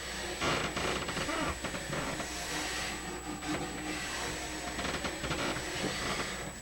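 Nylon brush scrubbing a ski base cleaned with Swix glide wax cleaner, a steady dense bristly rasp of continuous back-and-forth strokes, close and moderately loud, with no talking.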